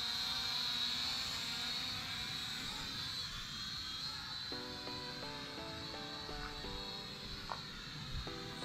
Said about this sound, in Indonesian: Drone mainan.